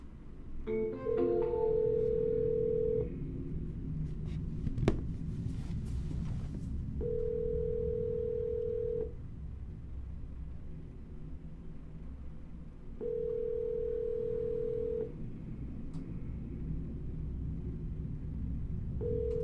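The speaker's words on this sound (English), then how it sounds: "At the tone, please record your message." Automated voicemail system sounding its recording beep: a steady pure tone repeats about four times in even bursts of roughly two seconds, separated by gaps over a low rumbling line hiss, with a short ringing burst at the start.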